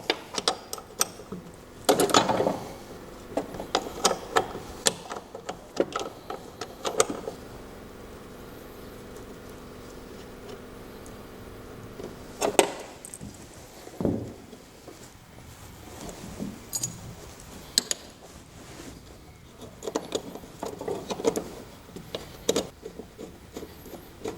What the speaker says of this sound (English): Now we just undo the two bolts using my nice little crank spanner